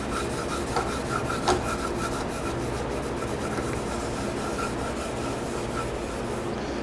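Scotch-Brite pad rubbed by hand over a vintage Yamaha XS650 engine, a quiet repeated scratchy scrubbing in short strokes, close and steady with no talk.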